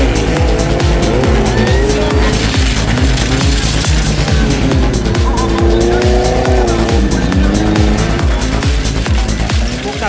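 Speed demolition race cars roar loudly around a dirt track, engines revving continuously with rhythmic pulsing and tire squeals, one car running on a punctured front tire; a faint voice comes through under the constant engine noise.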